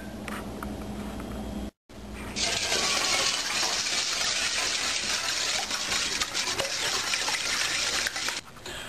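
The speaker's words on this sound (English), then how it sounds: "we're going to crack 6 eggs open, and we're going to whisk them together and get them all frothy" Six eggs are cracked and whisked together in a bowl until frothy for a croissant bread pudding; after a brief pause comes a sustained, rapid, wet clatter of whisking close by.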